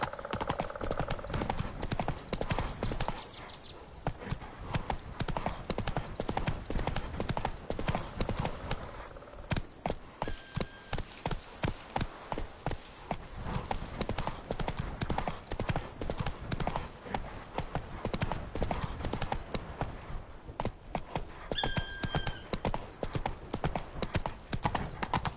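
Roach, the horse in The Witcher 3, gallops on and on, a dense rhythmic drumming of hooves close up with short pauses, occasional soft whinnies and a bit of speech mixed in.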